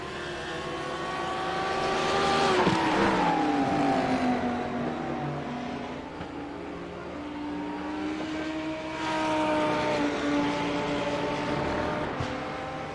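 GT3 race cars lapping the Sonoma circuit, heard as a distant engine drone that rises and falls with shifting pitch as the cars pass and head down the track, with no talk.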